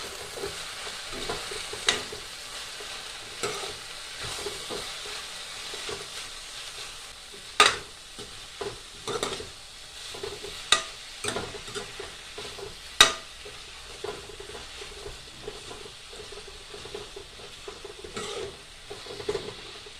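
Potato and fiddlehead curry with spices being stirred as it fries in a pan: a soft continuous sizzle broken by irregular scraping stirs and sharp clinks of a utensil against the pan, close and fairly quiet.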